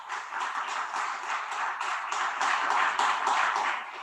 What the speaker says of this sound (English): Round of applause for Kashlee, please.